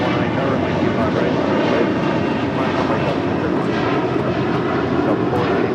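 A Delta airliner takes off from runway 25 right at LAX, its engines a loud, continuous roar throughout, with radio voices faintly underneath.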